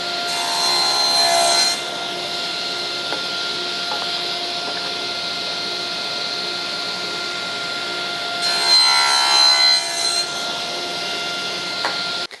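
A saw cutting wood pieces to length for a drying rack jig, with two separate bursts of rough, rasping cutting at the start and near the end, separated by a steady background hum.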